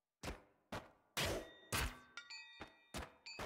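A hollow, unconvincing bell tone from the game ScourgeBringer, heard as a string of sharp struck hits with short metallic ringing tails, spaced irregularly and fairly loud, with no talking.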